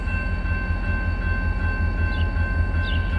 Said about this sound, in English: Adding on an engine to the train.